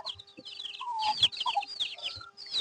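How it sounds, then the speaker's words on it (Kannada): A native country rooster clucks in short repeated bursts, close and fairly loud, with no talk. "ಅದೇ ಪಕ್ಕ ನಾಟಿ ಕೋಳಿ ಹುಂಜ ಅದು"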